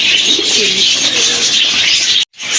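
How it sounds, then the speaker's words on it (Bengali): Soft cooing of two female pigeons, one a giraffe-neck breed, in a low, rolling rhythm beneath a steady hiss of background noise, cutting out briefly near the end. "কোয়ালিটিফুল দুইটা মাদি কবুতর দেখেন"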